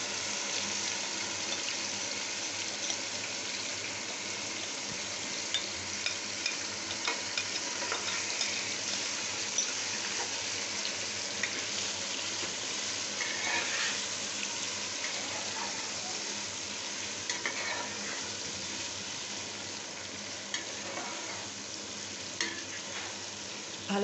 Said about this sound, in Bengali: এবার মেরিনেট করে রাখা মাংসটা দিয়ে দিচ্ছি চুলায়